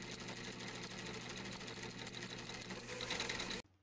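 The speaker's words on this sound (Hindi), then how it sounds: "इसके बाद आसन का जो कपड़ा है इसे शलवार के पोंचे के साथ सिलाई करेंगे।" A sewing machine runs steadily as it stitches the seat fabric onto one leg of a little girl's Patiyala salwar, a continuous close whir that stops abruptly near the end.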